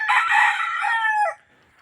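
A single rooster crows loudly and close by, one long bright call that trails off after about a second.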